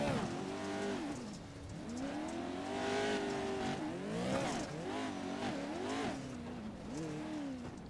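An off-road race truck in the Montana Off-Road Series works through corners, its engine revving up and dropping repeatedly as it shifts gears, loud and continuous with tire noise mixed in.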